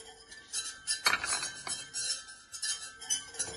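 Eggs and milk being stirred together in a bowl for a cake batter, giving a run of soft, close clinks and scrapes of utensil against the bowl with no talking.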